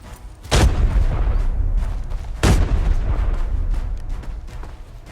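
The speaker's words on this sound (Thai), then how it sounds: "เสียงปืนอยู่ข้างหน้าครับ" Two heavy, booming gunshots ring out about two seconds apart in the shooter game Arena Breakout, each followed by a low rumbling tail that lingers under a steady ambient wash, with no talk.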